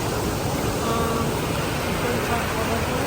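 Waterfalls pour into a lake, a steady, broadband rushing roar that holds constant and fairly loud throughout, with no distinct breaks.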